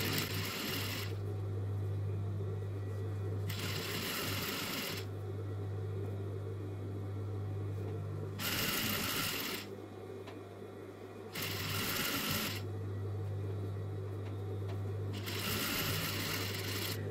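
Sewing machine stitching elastic along a dress seam, running in steady bursts of a few seconds separated by short pauses, with a constant low motor hum underneath.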